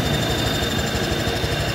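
A Honda Vario 125 scooter engine idling when hot, with a steady close, loud running drone and a faint rubbing squeak riding continuously over it, no one speaking.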